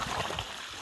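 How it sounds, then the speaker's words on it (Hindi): Water from a running pump pours straight down into a homemade outdoor tank used as a desi swimming pool, a continuous close, loud rushing splash. "पानी गिर रहा है ऊपर डायरेक्ट"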